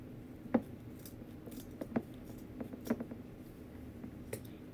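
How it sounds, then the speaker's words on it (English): Scissors snip at a craft project for a hanging beehive, several quiet, crisp cuts spaced irregularly across a hushed room, with no talking. "Get my other scissors. We're going to cut it here."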